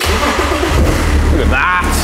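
An M57 diesel engine swapped into a car cranks and fires, settling into a loud rough idle close by, with voices talking over it.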